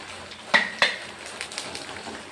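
Lemon pieces dropped into hot oil for lemon pickle, with two sharp crackling bursts followed by a steady, softer sizzle and light stirring, close by and with no talking.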